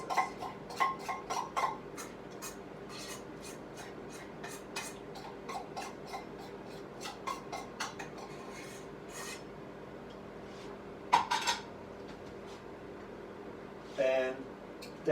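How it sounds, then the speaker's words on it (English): A knife spreads a fromage fort cheese mixture evenly over toast slices, making soft, close rasping scrapes in short strokes with scattered light taps and brief louder scrapes near the end. "And then you just want to spread it across evenly across the top."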